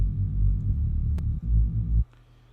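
Detuned saw synth reese bass in FL Studio, heavily resonant with a 24 dB filter cutoff pulled down, gives a loud, thick low rumbling drone that swells, briefly dips, then cuts off abruptly after about two seconds.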